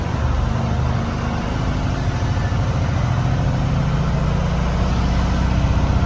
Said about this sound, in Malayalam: അങ്ങോട്ടൊരു ഷിഫ്റ്റ് ചെയ്തു, അങ്ങോട്ട് തട്ടി എന്നിട്ട് 5-ാമത്തേലേക്ക് ഇട്ടു